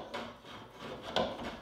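Mirrored secret door on drawer slides rubbing lightly against a wall corner, a soft continuous wooden scraping with a brief louder scuff near the end, close by and alone.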